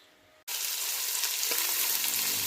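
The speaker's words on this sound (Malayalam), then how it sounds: "അതിലേക്ക് നമ്മൾ എടുത്തു വെച്ചിട്ടുള്ള സവോള, ഇഞ്ചി, വെളുത്തുള്ളി, തക്കാളി, പച്ചമുളക്, കറിവേപ്പില ഇതെല്ലാം കൂടി എടുത്ത് നമുക്ക് വഴറ്റിയെടുക്കാം." Onion, ginger, garlic, tomato, green chilli and curry leaves hit a hot pan for a Kerala-style chicken varattiyathu: near silence, then a sudden loud burst of sizzling that settles into steady, close crackling.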